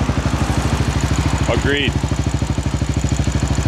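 A modified 2015 Honda XR670L, bored up from a stock XR650L, idles with a steady, rapid single-cylinder thump close by. Someone speaks briefly over it partway through.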